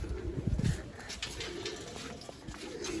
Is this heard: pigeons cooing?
yes